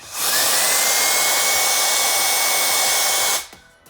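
A Wolfbox MF100 electric air duster on turbo with a narrower nozzle tip blasts a loud, close, steady rushing hiss for about three seconds, then cuts off and winds down quickly.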